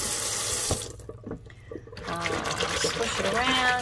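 Roselle hibiscus calyxes are swished and squished by hand in a sink of water, with running tap water and sloshing splashes, close and fairly loud, briefly pausing before the watery churning resumes.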